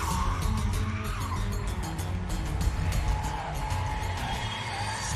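A 2,000 horsepower Lotus Evija electric hypercar drives hard with a steady loud electric whine and squealing tyres, close and continuous throughout.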